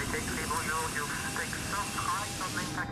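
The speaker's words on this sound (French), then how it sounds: "Donc l'avion aura du mal à décoller." An Airbus A380 jet takes off at very low speed at the Toulouse assembly site, its engines a steady, distant drone running beneath continuous talking.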